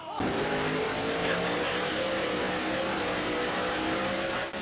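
A high-powered car engine runs hard on a dynamometer, a loud, sustained revving drone with steady harmonic tones holding for several seconds, close and alone.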